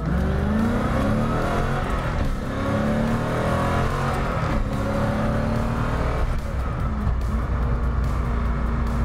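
A 1991 Chevrolet Corvette ZR1's LT5 engine roars hard under full throttle in full power mode, its pitch climbing through the gears with brief dips at each shift, loud and close.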